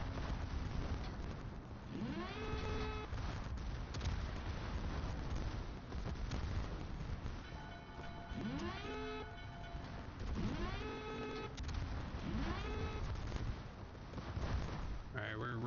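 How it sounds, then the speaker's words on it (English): Torpedo hits and ship gunfire boom and streak in a World of Warships naval battle, with repeated whistling shell flights and blasts spaced through the scene. "Oh man, another torpedo hit."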